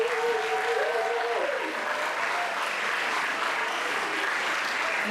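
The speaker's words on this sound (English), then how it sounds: "Let's give them another big round of applause." Steady, dense clapping from a large audience at a college graduation in Pohnpei fills the room, with a voice speaking briefly over the start before the ovation carries on alone.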